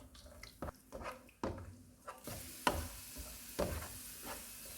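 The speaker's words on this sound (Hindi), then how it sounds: "चूल्हे को लो टू मीडियम कर देंगे और किशमिश को 1 से 2 मिनट तक फ्राई करेंगे" Raisins fry in a pan over low to medium heat while making Afghani chicken pulao, giving a faint, quiet sizzle broken by several soft knocks of stirring.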